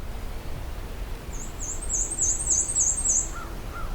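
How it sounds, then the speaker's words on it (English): A black-and-white warbler sings a high, thin, squeaky series of repeated two-note phrases at moderate distance outdoors on a hiking trail, over faint background noise. "bright and cheery black and white warbler"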